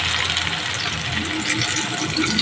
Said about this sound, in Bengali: এগুলো ধুয়ে সব জল দিতে হবে